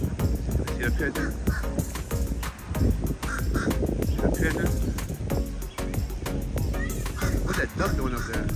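A duck quacks repeatedly in a park, its calls coming in quick bursts amid outdoor noise, with people talking nearby.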